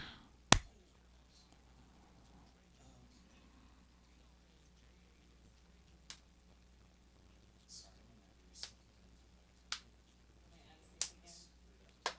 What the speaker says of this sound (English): Go ahead and clap there.